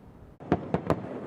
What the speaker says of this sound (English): Fair St. Louis hosting a spectacular fireworks show at the Arch for America's birthday.